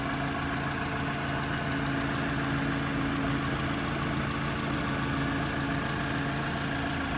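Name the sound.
2015 Mazda 6 2.5 liter four-cylinder engine idling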